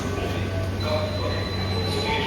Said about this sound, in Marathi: फायनली मेट्रोमध्ये बसलोय.